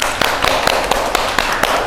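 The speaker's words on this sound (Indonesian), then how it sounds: "tepuk tangan dulu dong buat tim A" Students in a taxation management class clap for team A, a brisk, close run of sharp claps and taps at an uneven rhythm across the whole moment.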